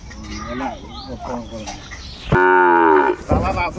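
People talk at a farm in Chuadanga, then a Sahiwal bull calf lets out one loud, close moo lasting under a second, followed by more voices.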